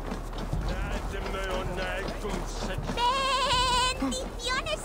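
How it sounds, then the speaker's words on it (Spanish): Yule goats bleating in the Assassin's Creed Valhalla video game, several wavering bleats near and loud over hoof clip-clop and background game sounds, with a voice talking at moments. "¡Cabras de Yul!"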